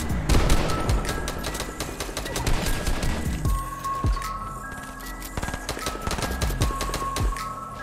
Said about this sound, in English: I'm getting shot at by like every single thing